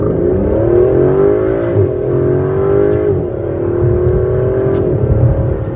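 A 2017 Aston Martin DB11 Launch Edition's twin-turbo engine pulls hard under full throttle, a loud continuous climbing roar heard from inside the car, briefly dipping at gear changes before rising again, with no speech.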